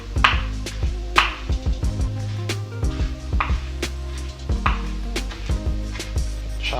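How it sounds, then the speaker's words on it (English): A knife chops sprigs of fresh cilantro on a cutting board for ceviche, giving a run of crisp, close taps at an uneven quick rhythm over a steady low background hum. "Chop that up."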